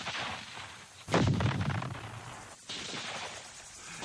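Rifle fire and explosive blasts from Vietnam War combat, a continuous crackle of gunfire punctuated by a heavy burst around the middle and another strong hit later, loud and dense throughout.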